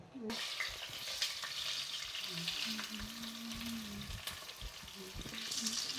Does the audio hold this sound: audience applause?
no